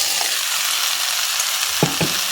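Fried lentil dumplings (bori) go into a pan of pumpkin, potato and drumsticks, where a steady sizzle of hot oil is joined by two short stirring knocks near the end.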